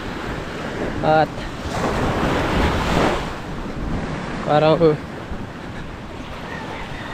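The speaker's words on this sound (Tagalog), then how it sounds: "andito na tayo sa dagat" Sea waves and wind rush across a beach, forming a broad roar with gusty buffeting on the microphone, while brief spoken words cut in twice over the surf.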